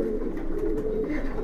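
Kaldom pigeon cooing while held in the hand, a low steady throaty coo up close that carries through the whole moment.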